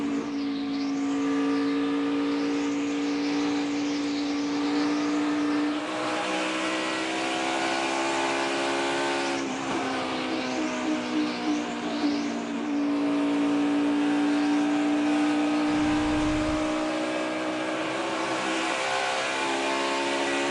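NASCAR Xfinity Series stock cars roar around the track, a sustained, droning engine note with several cars passing and fading in repeating sweeps, loud and continuous with no talk.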